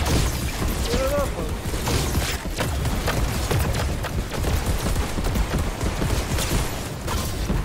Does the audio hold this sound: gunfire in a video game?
yes